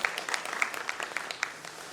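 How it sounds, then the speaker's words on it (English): Applause from an audience at a business summit in a convention hall in Pune fills the moment with dense, steady clapping, fairly close and without a break. "So please give them a round of applause."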